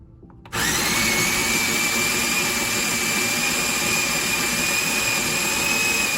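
A loud electric conical burr coffee grinder starts abruptly after a brief quiet moment and runs at a steady, high-pitched whine with a dense mechanical roar as coffee is ground.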